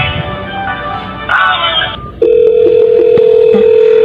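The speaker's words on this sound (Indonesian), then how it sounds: "dan ini tetap ada nada sambungnya" A steady telephone ringback tone hums on a held pitch after some brief line noise, with a short beep partway through.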